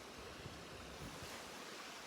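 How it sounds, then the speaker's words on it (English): Mountain stream in a rainforest beside a lakeside campsite, water rushing in a steady, broadband wash with a close, continuous hiss and low rumble, no voices over it. "So this stream must just turn into a torrent."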